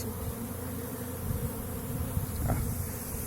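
A swarm of honeybees pours out of the super of a large 12-frame Wielkopolski hive in spring, producing a dense, steady, low buzzing drone close by, with no voices.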